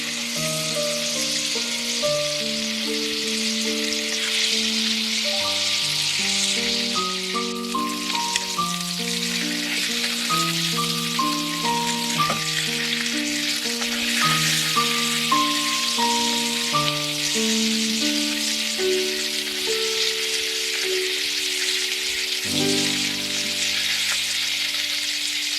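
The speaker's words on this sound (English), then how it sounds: "Once it's hot, add the marinated beef and cook for about 1 to 2 minutes per side." Marinated beef sizzles in a hot pan for an Asian beef and noodle salad, a continuous soft frying hiss running beneath prominent melodic music throughout.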